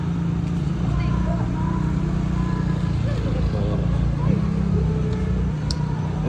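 A motorcycle engine drones past on a busy Tagbilaran street, a steady, moderately close rumble mixed with other traffic, with people talking nearby.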